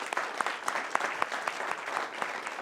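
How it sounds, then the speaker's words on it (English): An audience at a Las Vegas event applauds in a steady stream of close, overlapping claps, moderately loud, with individual sharp hand claps standing out from the crowd throughout. "So give yourselves a applause."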